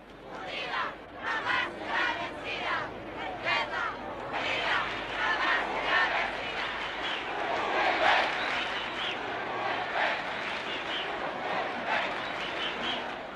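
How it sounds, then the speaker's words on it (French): Some 10,000 Popular Unity demonstrators from working-class districts, shantytowns and factories chant a slogan in unison in Chile in 1973, a loud, rhythmic mass of voices that rises and falls and holds steady throughout. "Les manifestants de l'unité populaire scandent ce slogan."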